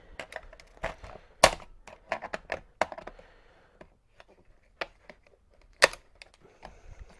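Plastic parts being pried and popped off a PC motherboard during scrapping, a run of sharp close clicks and cracks with two loud snaps and scattered smaller ticks.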